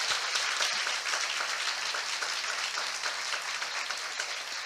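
A church congregation at a Hindi-language sermon claps together in a long, steady wave of dense applause, evenly loud throughout with no voices on top.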